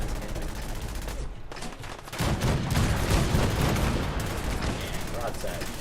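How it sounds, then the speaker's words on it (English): Ship cannons fire a broadside in the video game Fallout 4: a rapid volley of loud, booming blasts that merge into a dense roar, with a voice talking over the barrage. "I could fire the cannons, can't I?"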